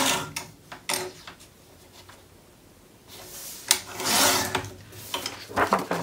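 Paper being trimmed with a paper trimmer for a Graphic 45 Joy to the World craft project, heard as several short scraping and sliding strokes in bursts, with a longer rasping cut near the end, close and fairly quiet.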